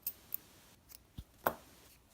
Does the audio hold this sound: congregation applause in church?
no